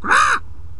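A parrot in the Deponia video game gives a single loud, harsh squawk lasting under half a second, then falls silent over faint background ambience.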